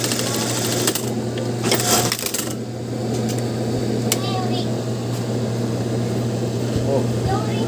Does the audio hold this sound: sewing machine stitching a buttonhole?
yes